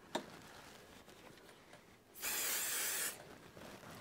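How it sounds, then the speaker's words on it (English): A short, steady hiss of a 505 spray adhesive aerosol can spraying for about a second in a quiet room, preceded by a faint click. "I just need to spray a little bit of 505 on here"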